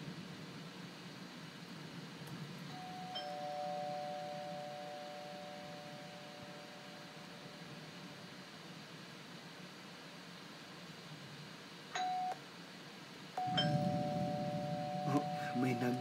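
A doorbell rings twice, with a sustained electronic chime tone early on and a second, sharper ring later, over steady background hiss.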